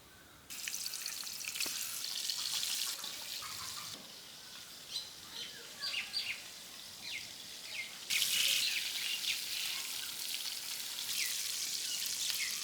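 Hilsa fish pieces, rubbed with turmeric powder and salt, fry in oil in a pan with a steady close sizzle and scattered crackling pops. The hiss swells louder partway through and continues without voices.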